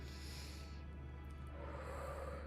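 A long, close breath drawn in through the nose during a guided chakra meditation, heard alone as a steady airy rush that swells toward the end.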